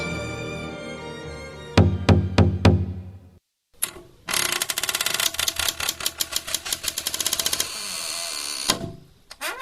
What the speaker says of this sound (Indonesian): Tiba-tiba terdengar ketukan pintu